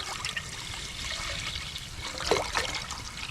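Tap water runs into a pasta pot at a truck campsite, a steady trickling stream with a few brighter splashes near the end, heard alone.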